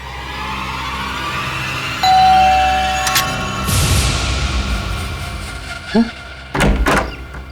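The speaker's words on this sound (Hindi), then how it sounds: "दरवाजा खोलने में इतना वक्त क्यों लगाया?" A doorbell chime sounds in a house in a crime drama, followed a few seconds later by a couple of sharp thuds as the door is opened, over a steady background hum.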